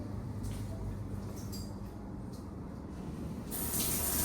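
Hotel shower switched on, water hissing and spraying steadily and loudly throughout, a continuous close gush of running water that swells slightly near the end.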